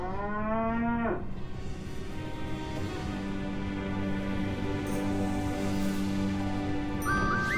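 A cow in the Sam and Max: The Devil's Playhouse video game gives a single drawn-out moo that slides down in pitch, followed by sustained tonal game music with a few light chimes near the end.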